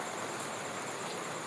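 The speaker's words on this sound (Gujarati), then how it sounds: "હા વરસાદ ચાલુ થઈ ગયો" Night rain at a farm where a buffalo has just calved, a steady close hiss of falling drops filling the whole stretch without pauses or voices.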